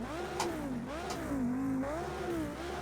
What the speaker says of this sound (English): Okay, the car is running